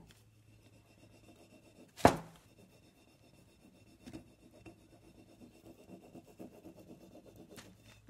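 A small stick rubs a paint transfer onto a clay pot, making soft, scratchy strokes with one sharp knock near the start, close and quiet.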